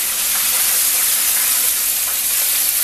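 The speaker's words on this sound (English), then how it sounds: "it's essentially deep frying some meats with some flour and spices" Steady, loud sizzling and crackling of flour-coated chicken breast and pork chops deep frying in hot vegetable oil, a continuous bubbling hiss with no talking.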